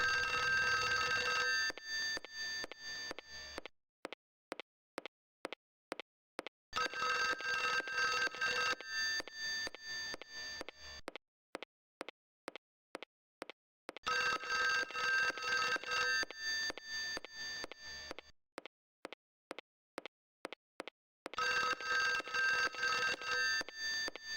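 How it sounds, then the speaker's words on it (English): A telephone rings in the Clock Tower game for Windows 95, loud and close: long bursts of ringing alternate with short pulsed gaps in a steady repeating cycle, with no voices. "someone's got to answer that goddamn phone."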